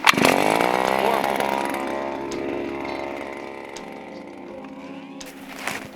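A small petrol power auger drilling through ice screams at high revs, then gradually winds down and slows, with a few sharp clicks and a brief surge near the end.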